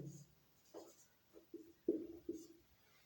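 A pen writes out a math solution on paper in a few short, faint scratchy strokes, heard up close in a quiet room.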